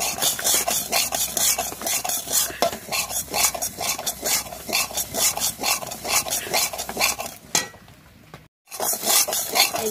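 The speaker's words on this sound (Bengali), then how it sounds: "এখন আমি সুজিটাকে একটু সময় ভেজে নেব" Semolina frying in a pan while being stirred, giving a steady scraping, rasping rhythm of repeated strokes with faint sizzle, broken by a short silent gap near the end.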